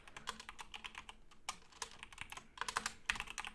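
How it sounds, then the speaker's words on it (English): Rapid, close computer keyboard typing while coding a Unity game, a steady stream of crisp key clicks with short pauses and a few heavier keystrokes, no voices. "What with the typing?"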